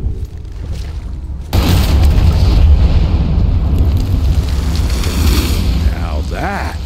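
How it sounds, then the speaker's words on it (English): Explosion in the video game Evil West, a sudden heavy boom that swells into a long rolling roar, with voices talking over the fading blast. "Now that is how you shape an explosion."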